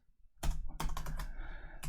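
Computer keyboard keys pressed at close range while working in AL code for Business Central, a Control-space combination giving a few sharp clicks and clacks, then a brief rattle of keystrokes, with no voices.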